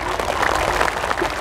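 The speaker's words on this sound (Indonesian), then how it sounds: "Tepuk tangan kita semuanya" Brief burst of audience clapping at an Islamic sholawat gathering in Kediri, a steady wash of hands from a crowd, fairly close and lasting barely over a second.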